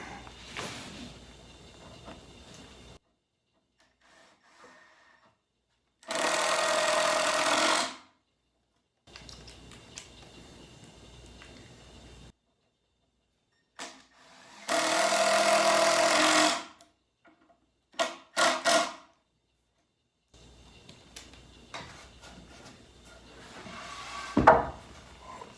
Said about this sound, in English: I will screw this together.